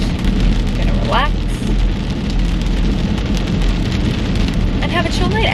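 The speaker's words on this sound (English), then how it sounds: "It's taken me almost an hour to get home because of this rain" Heavy Florida rain pours down in a constant, dense hiss, loud and unbroken from start to finish, with a few faint chirps peeking through.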